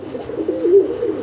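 One pigeon in a large Kerala pigeon loft gives a soft, low rolling coo lasting about a second, close and clear.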